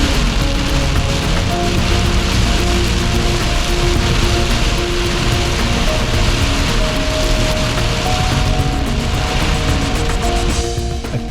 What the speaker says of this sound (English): Punched through the heavy rain, trying to get to the other side